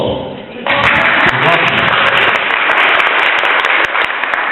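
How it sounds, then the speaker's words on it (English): A short moment of quiet, then loud applause from a large talent-show audience breaks out suddenly for a stand-up comedian and keeps going steadily, a dense wash of clapping. "Thank you for the applause"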